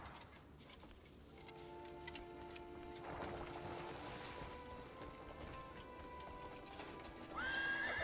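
A horse in the video game Crimson Desert whinnies and snorts, with hooves clip-clopping and a soft patter like rain behind it; a sharp rising call cuts in near the end.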